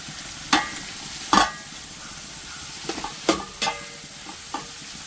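Onions frying in a pan for mutton biryani, a steady faint sizzle broken by several sharp scraping stirs of a spoon against the pan, spaced irregularly, with no talk.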